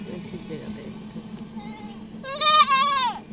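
A soft short goat call, then a loud wavering bleat near the end, over low background voices.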